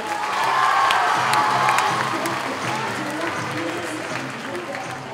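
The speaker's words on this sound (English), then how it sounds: "Big round of applause there." Audience applause and cheering for child performers at a talent show, a dense steady wash of clapping with shouts mixed in, loud at first and easing slightly while it carries on throughout.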